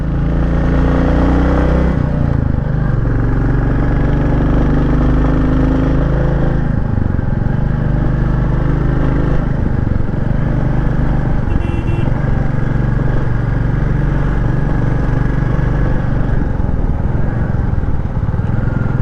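A motorcycle engine drones steadily and loudly while riding on a mountain road from Laitlum to Sohra in Meghalaya, with a few shifts in pitch as the bike changes speed.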